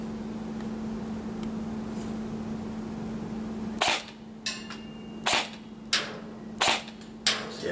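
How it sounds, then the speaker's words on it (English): A Secutor Rapax M6/M7 airsoft DMR fires 0.4 gram BBs outdoors at a 40 metre range, a series of about six sharp, loud cracks spaced roughly half a second to a second apart over a constant low hum. "And let's take the initial shot and see where it lands."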